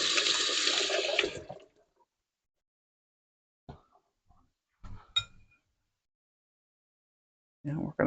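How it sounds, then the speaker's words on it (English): Running tap water splashes loudly into a sink for about a second and a half while hands are washed in a home kitchen, then cuts off, followed by a few faint clinks and small handling knocks. "I'll wash my hands."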